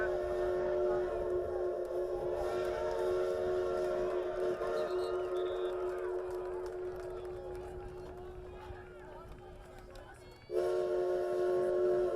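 A narrow gauge railroad train whistle plays over football stadium speakers for a sustained, loud, steady tone that stops partway through, then bursts back in, with crowd noise around it.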